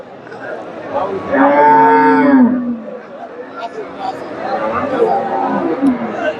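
Jersey dairy cows mooing at a weekly cattle market in Bogura, with one long, loud, close moo followed by lower calls mixed into crowd chatter.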